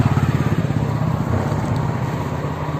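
A tractor engine runs close by during sand hauling, a steady rhythmic chugging pulse that stays level and loud throughout.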